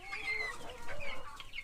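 Chickens cluck and chirp close by at feeding time in a continuous, busy chatter, with no talking.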